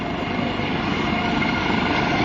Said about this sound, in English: they maintain the hover with this helicopter.